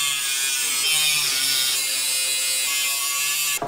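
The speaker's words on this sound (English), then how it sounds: "As you guys can see on the back side, I gotta grind this off." A power grinder cuts steadily into a metal part on a DIY electric kayak hoist, a continuous loud high whine with a buzzing drone and no talk, ending abruptly.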